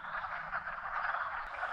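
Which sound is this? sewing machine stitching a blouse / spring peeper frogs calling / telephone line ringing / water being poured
spring peeper frogs calling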